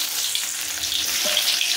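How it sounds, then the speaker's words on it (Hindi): Oil heating in a small wok for chowmein gives a steady, close hiss and sizzle across the whole short stretch, with no voices. "तो अभी तेल हमारा थोड़ा गर्म होने देते हैं।"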